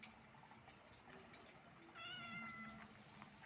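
A small kitten gives a single thin, high meow near the middle, fairly faint against a quiet room with a light background hiss.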